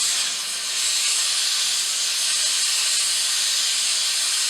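A torch hisses steadily as it heats stacked quarters being fused into a mokume gane billet, a loud, constant close-up roar with no pauses.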